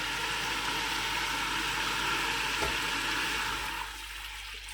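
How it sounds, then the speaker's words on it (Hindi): Jaggery syrup poured into rice cooked in ghee makes a continuous rushing, splashing pour with a soft sizzle, close and steady before easing off near the end, with no talking. "गुड़ का पानी जो है, यानी कि जो शीरा हमने तैयार किया है चावलों के लिए, वो मैं इसमें ऐड करूँगा।"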